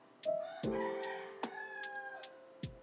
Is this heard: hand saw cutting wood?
no